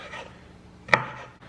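A single crisp knife chop through bell pepper lands on a cutting board, with faint scraping and rustling before and after it.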